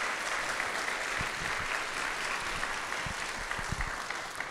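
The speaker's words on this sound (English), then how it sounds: "Can we give Len a huge round of applause?" A church congregation at a Sunday service applauds steadily throughout, a dense wash of clapping with a few louder individual claps standing out.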